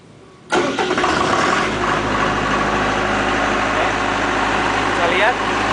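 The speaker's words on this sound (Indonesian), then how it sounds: "Oke, sebentar lagi genset ini akan hidup." A Multipro SDG 30000 AS generator cranks and catches abruptly, then settles into a loud, steady running drone at close range.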